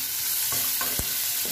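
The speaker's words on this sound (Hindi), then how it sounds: "और इसको करेंगे अच्छे से फ्राई" Ingredients for chilli potato frying in a pan, bright steady sizzling with a few spatula scrapes and one sharp knock against the pan, near and alone without speech.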